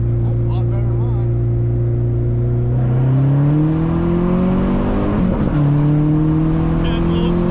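A Dodge SRT4 engine revs loudly and climbs, then its pitch drops and picks up again during a no-lift shift, a continuous close-up drone throughout.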